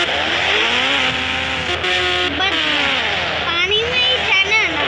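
Motorcycle engine in the Indian Bike 3D video game, a loud, continuous synthetic drone whose pitch climbs and dips as the bike revs and rides, with no pauses.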